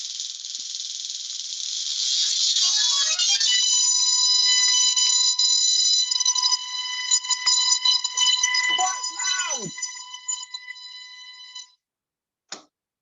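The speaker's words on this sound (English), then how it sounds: "It's monstrously loud. It creates huge sparks, about a foot long" A million-volt spark machine throws foot-long, 30-centimetre electric sparks with a monstrously loud, harsh buzzing drone. The drone builds over a few seconds, crackles and sputters, then breaks off, followed by a single short snap near the end.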